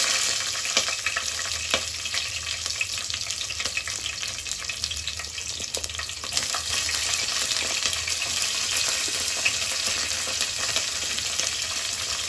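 Green chillies and onions frying in oil on a medium flame for a vegetable biryani, a loud continuous close sizzle with occasional stirring scrapes and no voices.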